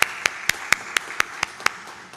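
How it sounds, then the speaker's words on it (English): Sparse, evenly spaced claps at a conference and expo, about nine sharp hand strikes over two seconds, more like one person's rhythmic clapping than full crowd applause, fairly close and alone. "round of applause to welcome everyone back to the stage"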